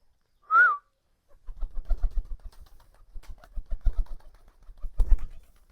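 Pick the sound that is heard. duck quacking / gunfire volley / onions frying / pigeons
pigeons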